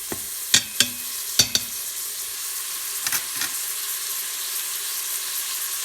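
Garlic sautés in an Instant Pot with a steady, bright sizzle, while a few sharp scrapes and clinks of the stirring utensil punctuate the frying near the start and again midway.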